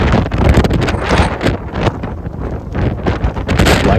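Strong gusting wind in a Nebraska storm roars and buffets the microphone, loud and close, with rustling and flapping throughout.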